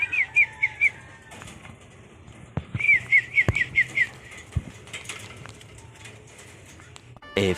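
Racing pigeons calling around a loft during a derby race, with short, bright, repeated chirping bursts in two clusters, soft flapping and a few sharp knocks over quiet outdoor background noise.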